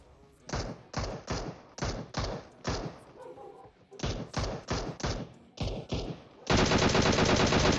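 PUBG Mobile gameplay gunfire comes in quick clustered bursts of sharp shots with brief gaps between them, then breaks into a dense, continuous automatic volley at the end. It is loud and close throughout.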